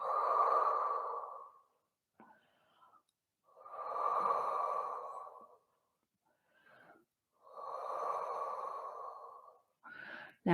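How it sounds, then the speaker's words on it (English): Three slow, deep breaths during a Pilates stretch, each a long airy wheezing inhale or exhale of about two seconds, close and alone, separated by short quiet gaps with faint catches of breath. "just take some deep breaths here"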